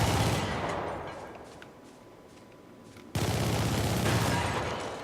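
Rapid machine-gun fire in a video game, a dense stream of shots that drops to a quieter lull midway and then resumes at full loudness, with no talk over it.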